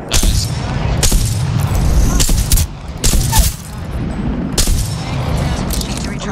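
DMR rifle shots ring out in a multiplayer shooter game, several sharp, loud cracks spaced irregularly over a steady background of game noise.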